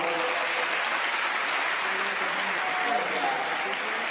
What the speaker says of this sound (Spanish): Un fuerte aplauso a Pablo